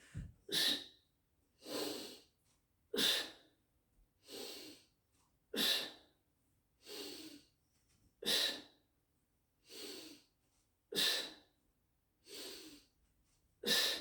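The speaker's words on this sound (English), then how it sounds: "You hear the breathing, right?" A person exercising during an abs-focused balance fitness class breathes hard and rhythmically, with about ten strong, close exhales and breaths spaced evenly a second or so apart, and no talking.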